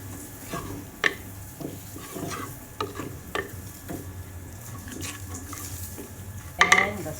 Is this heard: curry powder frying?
yes